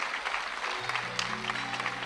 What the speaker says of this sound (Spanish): ese aplauso fuerte, que son los primeros, dando ejemplo